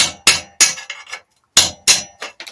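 Hammer blows on a chisel knock plasma cutter slag off steel, sharp metallic strikes in two quick clusters of three or four hits each, with a brief pause between them, close and loud.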